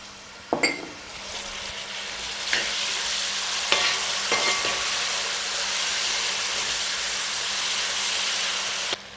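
Small onions and tomatoes fry in a pan for a country-chicken gravy, giving a steady close sizzle with a few sharp clinks and stirring scrapes throughout.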